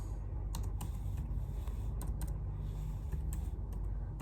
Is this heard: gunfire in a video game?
no